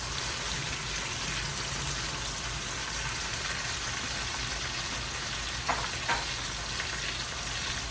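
Cherry tomatoes sizzling in hot olive oil with garlic in a pan, a steady close frying hiss throughout with a couple of faint stirring clinks, no talk.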